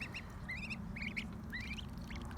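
Several farm ducks quack in short repeated bursts over a steady low rumble of background noise, the calls fairly close and clear.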